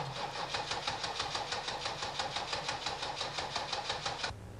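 Starter cranking the engine of a 1984 Chevrolet diesel during fuel pump testing, a fast, even rhythmic churning that runs for about four seconds and then stops, with no catch or start.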